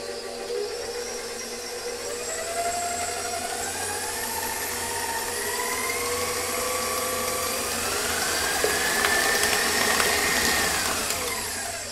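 Electric mixer whirring through maple doughnut cake batter, a steady close motor drone with shifting pitch that rises and falls as it runs continuously.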